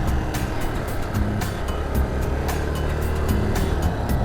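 A Honda XR250L dual sport motorcycle rides along a rural road, its engine producing a steady, continuous drone with wind noise, holding level throughout without any talking.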